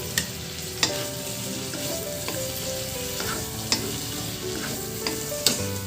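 Chicken curry with cut potatoes simmering and frying in a pot, a steady close bubbling sizzle broken by a few sharp clinks and stirring knocks, with no voices.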